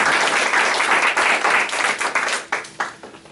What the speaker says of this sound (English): just a round of applause for teachers